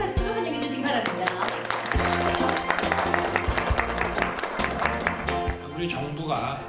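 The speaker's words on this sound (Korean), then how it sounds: "큰 박수로 환영해 주시기 바랍니다." Applause from an audience welcoming guests at a Korean culture and arts event, sustained clapping mixed with loud music throughout.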